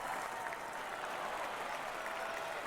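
In the PC golf game Action PC Golf, crowd applause crackles steadily and evenly from start to finish, sounding soft and slightly distant.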